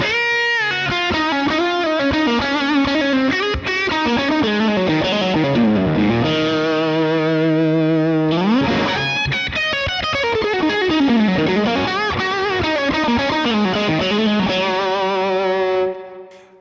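Distorted electric guitar plays a continuous solo through a Vox AC30 tube amp, with sliding bends, held notes and fast runs, loud and close with a touch of echo.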